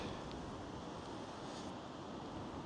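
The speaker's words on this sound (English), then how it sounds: "So as you can see, it's really windy." Strong gusts buffet a DJI Pocket 3's built-in microphone outdoors, producing a loud, continuous low roar and rumble of wind noise with no letup and no voices.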